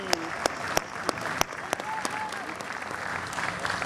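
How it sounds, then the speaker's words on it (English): Audience applause at a large cultural festival after an Indian classical dance and symphony performance: a dense crowd clapping continuously with a few louder individual claps standing out, and a voice faintly heard over it. "Give it another round of applause for Panchabhutam, Indian classical dance and symphony."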